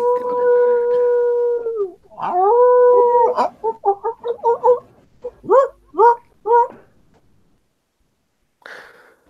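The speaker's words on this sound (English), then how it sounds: "I think those strange dogs are back again." Dogs howling as a tabletop role-playing sound effect: a long, wavering howl, then a run of shorter rising yelps and howls, loud and close, ending in a brief rustle.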